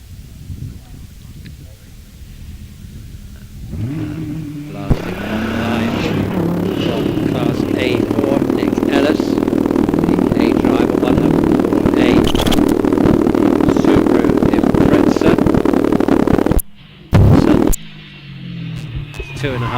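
A 2.5 litre race car climbs the hill at Wiscombe Park, its engine a loud, sustained drone that builds and holds for long stretches under a commentator's voice, then drops away briefly near the end.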